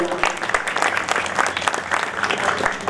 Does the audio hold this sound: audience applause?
yes